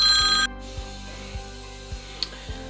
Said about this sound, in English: but the phone rings